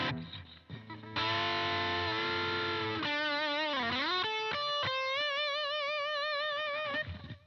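An electric guitar played through its humbucker into a blues amp set to light crunch: sustained chords and bent, vibrato-laden notes ring out alone, mildly overdriven, with sharp attacks and several distinct phrases.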